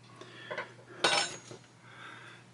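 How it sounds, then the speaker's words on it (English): Dry ballast gravel sprinkled by hand onto model railroad track, a light gritty patter with one brighter, louder scatter in the middle among a few softer trickles. "Sprinkle that on there like that."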